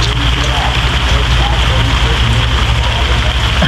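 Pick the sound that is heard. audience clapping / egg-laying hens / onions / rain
rain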